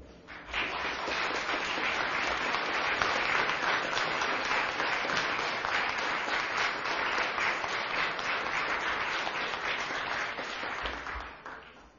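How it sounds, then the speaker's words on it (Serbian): Sustained audience applause fills a hall at the Serbian Army House during an evening event, a dense steady wash of clapping at even loudness for about ten seconds before fading out at the end. "Ja mislim da još nisam zaslužio aplauz"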